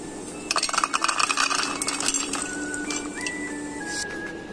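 Crispy fried soya chunks tumble onto a serving plate with a quick run of light clinks and rattles, followed by a few softer scrapes and scattered taps at close range.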